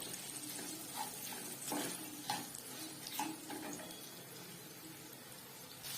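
Potato and taro pieces fry with cumin powder in a pan, a soft steady sizzle with occasional scraping stirs, faint and close.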